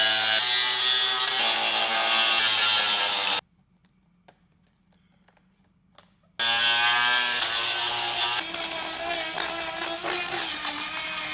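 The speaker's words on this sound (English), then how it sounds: "So after I spent a couple hours grinding it down" A power grinder cuts down the structural reinforcement of a car bumper, a loud steady whining grind that stops for a few seconds of near silence, then resumes just as loud.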